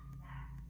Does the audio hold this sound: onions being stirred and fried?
no